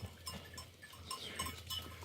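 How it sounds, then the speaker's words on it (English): A small black goat with white hair on top, met along the Lycian Way trail near the ancient city of Phellos, gives faint, short bleats amid steady outdoor background noise. "Look at that little black goat with the white hair on the top."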